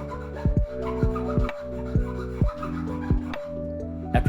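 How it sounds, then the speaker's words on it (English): A small hand saw and a file work a drilled hole in a desk panel to fit a rocker switch, giving close repeated rasping strokes in a steady back-and-forth rhythm about twice a second, with no voices. "I used a little hand saw as well as a file to smooth it out and get the shape I wanted to fit in the rocker switch."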